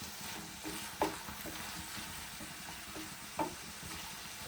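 Cloves, cinnamon and cashews frying in oil in a pan give a low steady sizzle, with two sharp spatula clinks against the pan about two seconds apart.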